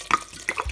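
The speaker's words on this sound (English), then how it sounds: "top them off with some water and then bring it to a boil." Water splashes and trickles into a pot of destemmed wine grapes from the slopes of Mount Etna, heard as brief, close liquid spatters and gurgles.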